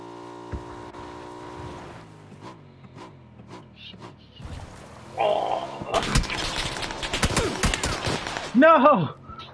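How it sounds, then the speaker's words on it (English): Gunfire in the battle-royale video game PUBG: scattered distant shots build into dense rapid fusillades and bursts, mixed with game ambience and players talking over it. "I hear shooting in front of us."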